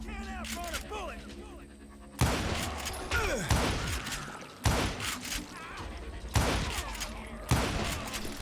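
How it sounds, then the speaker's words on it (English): Loud revolver and rifle shots ring out in the Western shooter Call of Juarez Gunslinger, several sharp booming reports spaced a second or two apart with echoing tails, a narrator's voice talking between them. "I just kept shooting at anything I could see up in those damn rocks"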